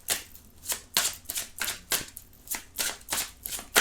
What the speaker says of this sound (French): on va tirer quelques cartes avec l'oracle Le Sens de la Vie